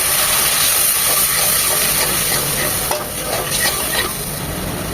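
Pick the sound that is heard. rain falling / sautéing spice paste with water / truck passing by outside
sautéing spice paste with water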